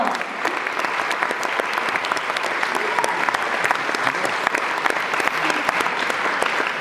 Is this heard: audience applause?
yes